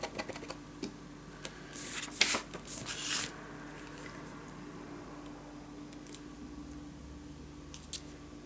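Two or three short snips of scissors cutting paper for a Christmas mini album, quiet and close, followed by a few faint paper rustles in a calm room.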